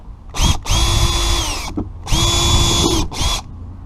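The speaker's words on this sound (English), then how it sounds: "I'm going to go ahead and drill a couple holes right here." A power drill bores holes into a homemade fruit picker tool in two loud, close bursts of high whining spin, each with a brief start-up and a slowing wind-down, separated by a short pause.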